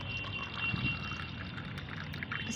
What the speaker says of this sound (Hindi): धोने के बाद इस पानी को आपको निकाल लेना है।